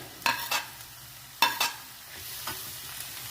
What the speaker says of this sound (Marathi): त्यामध्ये आता हे भाजीचे चिरलेले मी त्यात टाकते आहे